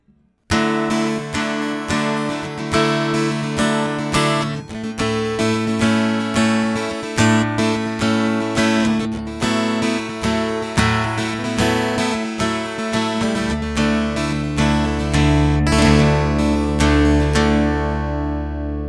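An acoustic guitar plays the verse riff of a song, a steady, ringing picked and strummed pattern that carries on unbroken at close range, with no voices.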